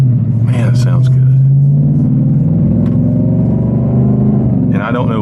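A Whipple-supercharged 810 hp Ford Mustang GT350 in drag strip exhaust mode gives a deep, loud, continuous rumble heard from inside the car, with someone talking over it.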